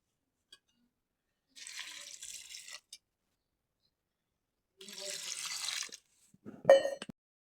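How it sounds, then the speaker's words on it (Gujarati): Water poured from a lota into a pot of chickpeas set for boiling, two separate gushing pours of about a second each, followed by a brief clank of the vessel, otherwise quiet. "હવે તેમાં 2 લોટા જેટલું પાણી ઉમેરીશું અને બાફીશું"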